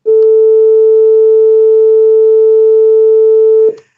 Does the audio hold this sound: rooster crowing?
no